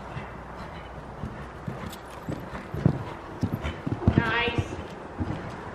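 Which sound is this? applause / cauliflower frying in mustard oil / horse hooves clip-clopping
horse hooves clip-clopping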